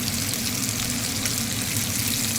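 Purslane and cheese patties fry in hot oil, a steady close crackling sizzle that holds evenly with no speech.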